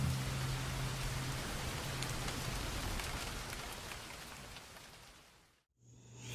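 Steady rain pours down as a dense, loud hiss with a low hum underneath, holding for about six seconds before cutting out briefly and returning near the end.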